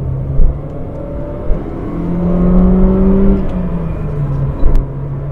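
Nissan Primera engine pulling hard down a highway slip road, a steady low drone with rising tones that swell through the middle of the run, then settle into a cruising hum with a few small knocks.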